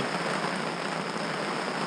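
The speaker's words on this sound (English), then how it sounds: "The rain is off and on" Steady rain falls on the surface around a carp fishing spot, a dense, even hiss that holds unchanged throughout with no voices.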